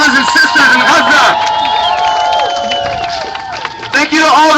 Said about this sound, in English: everybody give yourselves a round of applause for being here